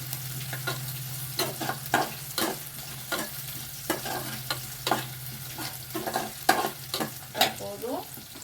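Onions sauté on full flame in a pan while a utensil stirs and scrapes them in an irregular rhythm of clicks and scrapes over a steady sizzle, with a low hum underneath.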